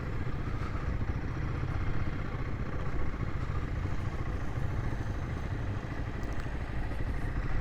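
A Royal Enfield Himalayan 450 motorcycle being ridden at an air show among military vehicles. Its engine gives a continuous, steady mid-pitched drone with a slight clatter, moderately close, and nobody talks.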